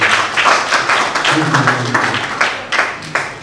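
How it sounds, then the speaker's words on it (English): Workshop participants clapping together at a university gathering in Abuja, a dense, fairly loud burst of hand claps with uneven rhythm and some voices mixed in, fading slightly toward the end. "Can we clap for ourselves?"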